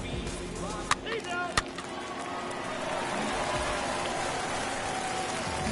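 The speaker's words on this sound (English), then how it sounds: "There is rain in the area" Rain pours steadily at a ballpark in MLB The Show 21, a soft continuous hiss under the stadium ambience, with a couple of sharp knocks early and a commentator talking.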